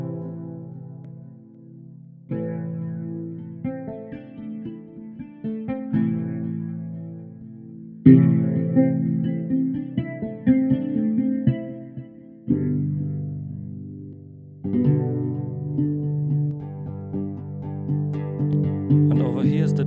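A virtual oud instrument plays traditional phrases in separate bursts of plucked notes, with pauses between them, clear and alone.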